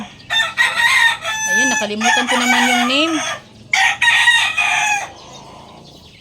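A rooster crows nearby, loud and drawn out, with clucking fowl around it and a person talking over and between the calls.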